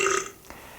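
A single loud, bright belch from a person, about a quarter second long, then quiet room tone.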